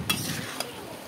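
Chow mein gets stirred in a hot pan with spices, a short burst of soft scraping and sizzling with two quick utensil clinks.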